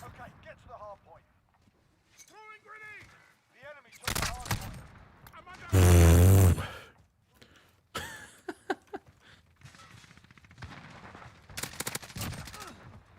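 Sniper rifle fire and other gunshots in a Call of Duty style video game, one loud burst near the middle among sharper shots, with someone talking over much of it.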